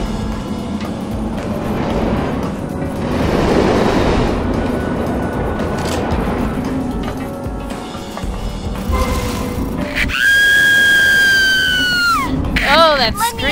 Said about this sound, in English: Oh, that scream!